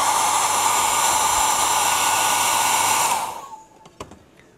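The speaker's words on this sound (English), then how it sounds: "I'll give that a blast with a hairdryer." A hairdryer blows loudly and close for about three seconds, a steady broadband roar, then switches off and winds down, leaving a few faint clicks and handling sounds.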